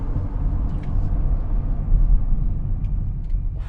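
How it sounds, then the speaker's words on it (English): A 2024 Mazda CX-50 braking hard down a small incline, heard from inside as a steady low road rumble and tire noise that holds throughout without a clear screech. "let's test out the brakes here real quick. Gonna whack them kind of down a small incline"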